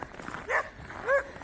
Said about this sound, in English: Doggies everywhere.